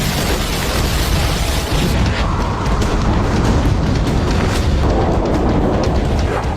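Powerful explosion blast, a loud, dense roar of broadband rumble that fills the whole stretch without any speech.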